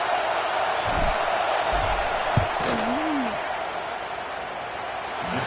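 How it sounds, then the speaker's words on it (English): Steady stadium crowd roar from NCAA 26 college football video game as the field goal unit lines up, a continuous loud wash of crowd noise with a brief thump near the middle. "This crowd trying to do its part to get inside the kicker's head."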